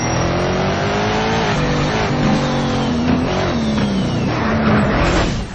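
A racing car engine revs hard and steady in the Need for Speed Shift video game, a loud continuous roar with shifting pitch and gear changes, close and filling the whole stretch.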